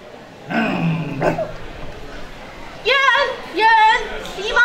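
In a children's puppet theatre show, a performer's voice imitates a big dog growling, with drawn-out rumbling vocal growls in a few bursts, up close and fairly loud.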